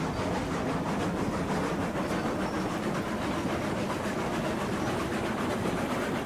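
Loaded freight wagons rolling along the track in the train simulation game Railroads Online, a steady dense rumble with continuous rail noise and no clear clacks, loud and unbroken throughout.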